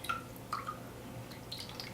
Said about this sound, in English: I'm just gonna start drizzling water over it.